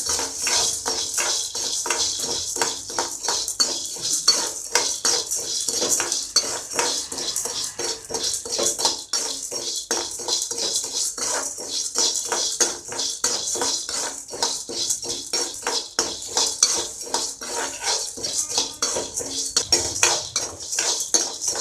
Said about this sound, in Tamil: அடுத்து கடலைப்பருப்பு போடுறேன் இதையும் அதே மாதிரி நல்லா வறுக்கணும்